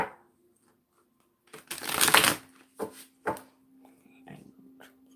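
A riffle shuffle of tarot cards rasps up close, followed by several short taps and shuffles; a faint steady hum sits underneath.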